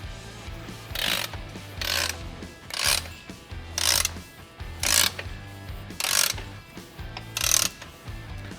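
UTV shock springs being compressed with a spring compressor for a Hyperco kit, heard as a regular series of about eight ratcheting bursts, each about a second apart, close and moderately loud, with no talking.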